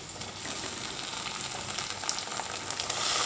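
Capsicum and tomato tumble into a pan of browned onions, setting off a loud, steady sizzle that swells slightly toward the end, with faint crackles on top and no voices.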